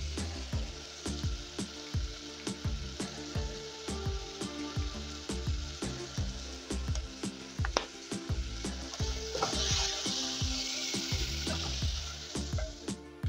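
Onions frying in a pan with cumin for a pumpkin soup, a continuous gentle sizzle and crackle broken by irregular sharp popping spatters throughout.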